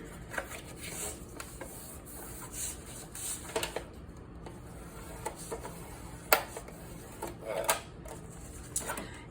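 Graphic 45 Couture cardstock is folded on a 3-inch score line for a stair step card, giving soft, close rubbing and creasing scrapes in short irregular bursts with no voices.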